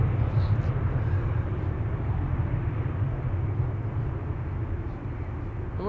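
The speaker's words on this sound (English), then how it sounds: "We're pretty soon going to hear the engine sounds of this A330." Jet engines of an Airbus A330 departing Amsterdam Schiphol Airport, a steady loud low rumble and roar that holds evenly throughout with no talk.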